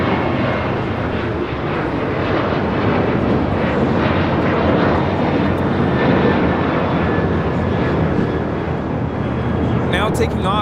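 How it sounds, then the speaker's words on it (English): A United Airlines Boeing 737-900ER takes off at Los Angeles International Airport, its loud jet roar sustained and broad throughout, with a brief click near the end. "Taking off, this is United Airlines 1062 taking off to Las Vegas on a 737-900ER"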